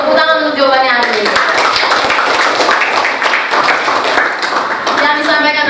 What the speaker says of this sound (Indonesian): Tepuk tangan untuk jawabannya Arif.